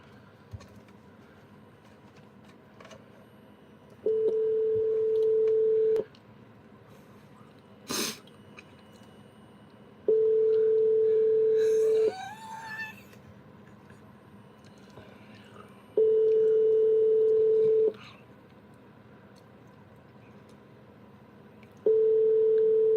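A telephone call being placed: after a few faint dial-pad sounds, a steady ringback tone sounds four times at even intervals, each burst about two seconds long with quiet gaps between.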